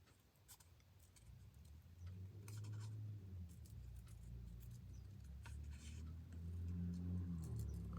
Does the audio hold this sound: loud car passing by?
yes